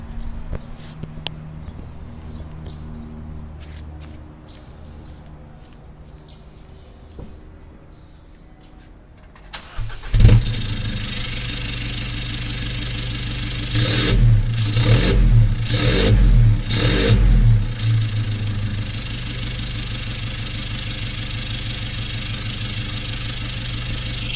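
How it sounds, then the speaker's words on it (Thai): An Isuzu CAB4 pickup with a 1.9-litre diesel engine cranks and starts after about ten seconds of quiet, then runs at a steady low rumble close by, with several short louder revs partway through. "เดี๋ยวผมสตาร์ทให้ฟังนะ สำหรับคันนี้นะ"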